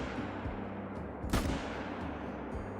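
Single hunting rifle shot in Call of the Wild, one sharp loud crack with a short echoing tail midway through, set against a quiet outdoor ambience.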